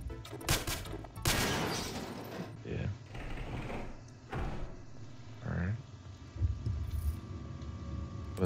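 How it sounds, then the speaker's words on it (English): A potato gun fired in a horror video game, giving sharp popping bursts and slam-like hits over dense game noise, with a voice talking alongside. "Is this a potato gun?"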